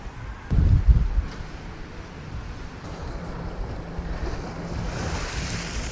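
Choppy sea waves wash onto Magaluf Beach in Majorca, with a brief louder crash near the start, then a steady surf rush mixed with wind buffeting the microphone.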